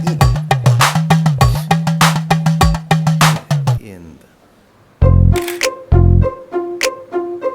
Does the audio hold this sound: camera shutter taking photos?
yes